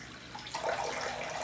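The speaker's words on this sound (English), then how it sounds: "Rinse my face off now." Water runs from a tap as a face is rinsed after a safety-razor shave, a soft steady splashing that swells slightly halfway through and continues alone.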